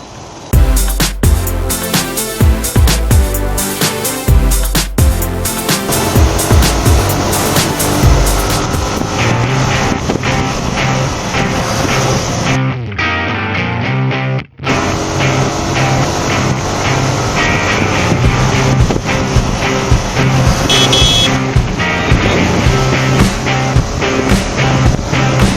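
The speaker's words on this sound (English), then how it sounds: "There you go, street racing." Motorcycles street racing in India roar loudly and continuously, engines revving and rising in pitch as they pass close, with a short break in the noise midway before the racing resumes.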